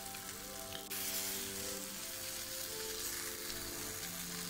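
Tandoori chicken sizzles on a flat tawa over a low flame, a steady close crackle that swells slightly after the first second, with a faint tonal hum beneath and no talking.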